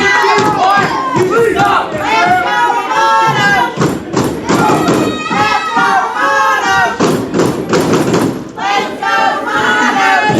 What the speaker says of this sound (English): it doesn't matter how much noise the crowd makes